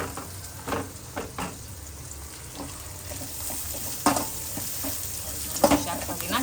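Onions, carrots and cabbage sautéing in a pan for a pasta dish, a continuous close sizzle with repeated stirring strokes and occasional louder utensil knocks against the pan, no talking.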